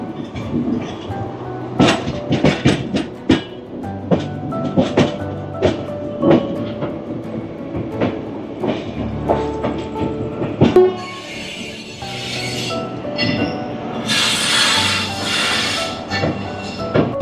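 Duronto Express train number 22202 from Puri to Sealdah, heard running on the rails as a steady rumble with rhythmic wheel clatter, and later a rising high-pitched hiss and squeal, loud and close throughout.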